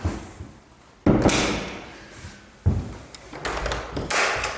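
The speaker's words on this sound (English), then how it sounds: "Doors blowing shut everywhere by the sound of" Inside an abandoned old house, doors blow shut, giving two loud thuds with rattling and creaking afterward, set against a faint background hiss and no speech.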